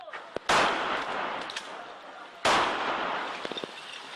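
Two loud, echoing blasts of gunfire ring out during an armed clash between police and attackers wielding guns and Molotov cocktails in Esenles at night, each followed by a long reverberating tail and faint scattered cracks.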